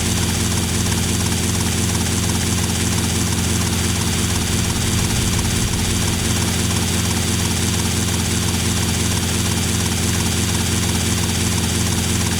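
Helicopter flying in a Grand Theft Auto Vice City mod, a steady, loud, droning rotor and engine roar that holds unchanged throughout with no speech.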